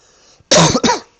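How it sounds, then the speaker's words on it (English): A single loud, close double cough, two sharp harsh bursts right after a brief quiet breath, from a caster during a live Age of Empires II commentary. "Sorry if I cough at any point."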